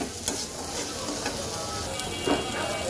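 Fish curry with potatoes is stir-fried in a pan, giving a continuous moderate sizzle with scraping and stirring clicks up close.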